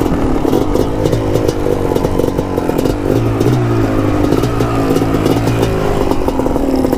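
A Kawasaki Tecate 4 250cc two-stroke quad engine running close by, a loud and steady buzzing idle with a rattly, ringing exhaust note and no voices.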